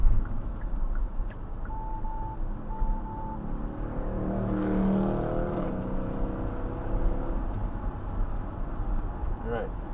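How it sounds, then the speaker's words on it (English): A Dodge car passing on a race track during a track day, a swelling engine drone that rises and fades under continuous talk inside the car. "Let the Dodge go by."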